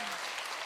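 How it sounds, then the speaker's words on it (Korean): An audience at a church conference applauds, a dense, even wash of many hands clapping at once, sustained and fairly loud throughout the short moment. "박수 크게 쳐주세요."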